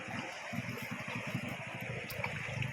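The Alas River at Kutacane flows with a soft, steady wash and low gurgling at sunset, continuous and fairly quiet, with no voices.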